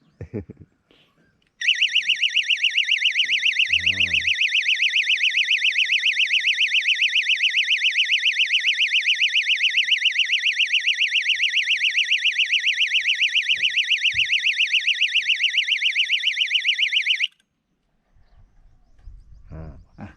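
A fishing bite alarm triggered by a tightening line, a loud, shrill electronic buzzing tone that holds steadily for about fifteen seconds before cutting off, with faint handling noises around it.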